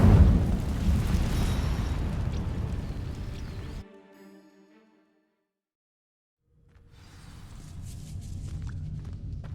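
An Incendio fire spell in Hogwarts Legacy bursts into flame on dry vines with a loud roaring whoosh that cuts off into near silence, then a quieter crackling rumble returns.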